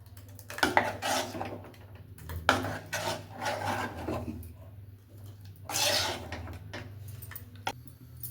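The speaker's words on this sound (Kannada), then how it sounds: "ಒಂದು ಹೆಂಚನ್ನು ಇಟ್ಕೊಂಡಿದ್ದೀನಿ ಇವಾಗ ದೋಸೆ ಮಾಡೋದಕ್ಕೆ ಅಂತ ಹೇಳಿ." An iron dosa tawa set down on a home kitchen stove, giving several clanking metal knocks and scrapes of varying loudness over a low steady hum, with no talk.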